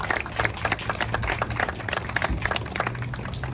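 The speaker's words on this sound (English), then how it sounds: "Please give him a round of applause." An audience at a keynote speech applauds with a steady patter of many hands clapping, close and sustained over a faint low hum.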